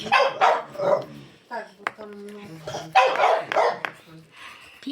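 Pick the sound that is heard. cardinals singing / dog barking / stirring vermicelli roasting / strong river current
dog barking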